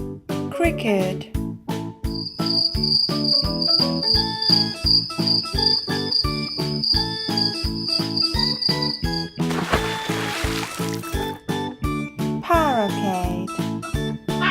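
Cricket chirping in a farm-animal sound lesson, a steady high pulsing trill running for several seconds over a busy bed of rhythmic music.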